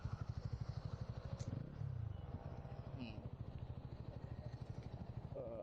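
A motorcycle carrying two riders and four bags chugs along with a steady pulsing engine beat, close and moderately loud, while a voice talks over it.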